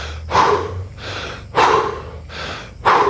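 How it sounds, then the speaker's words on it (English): A person recovering from exercise breathes in strong, close cycles, three long audible exhales with quick inhales between them, loud and alone. "extend that exhale"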